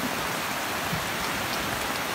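Rain falling in a dense, steady, even hiss with close patter on surfaces, loud and unbroken throughout, with no voices.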